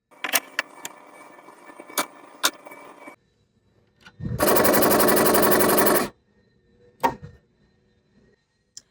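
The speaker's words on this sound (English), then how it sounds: "push on my button to pop the thread through" Serger air threader blowing thread through the looper, a loud steady rush of air lasting about two seconds, preceded by light clicks and handling taps and followed by a faint click.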